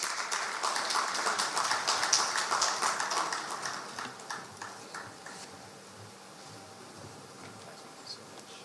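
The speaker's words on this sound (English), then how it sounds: "Shall we welcome him with a big round of applause?" Scattered audience clapping welcomes the board chairman at a Ghanaian morning event, fairly faint and uneven at first, then thinning to a few sparse claps.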